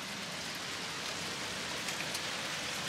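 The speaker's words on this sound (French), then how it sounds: "la pluie est tellement forte que ça fait bouger le mur là" Heavy rain pours outside a home during a windy storm, a continuous dense hiss of drops drumming on surfaces, steady and fairly loud with no voices.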